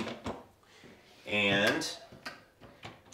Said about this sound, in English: the first step I'm going to do is to unclamp these doors